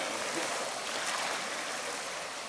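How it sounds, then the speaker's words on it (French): Steady broadband rush of water lapping along the Saône river bank, continuous and fairly close with no clear break, wind-like wash filling the whole stretch. "ça c'est les vagues"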